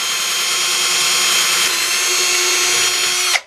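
A power drill bores a hole through a wooden guitar neck with a loud, steady, high-pitched whine held for about three seconds, close up and alone, before stopping abruptly.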